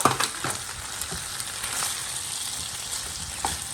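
Prepared chilli chicken stir-fries on a high flame, a soft, steady sizzle broken by a few clinks and scrapes of a spoon against the pan, heard close with no talking.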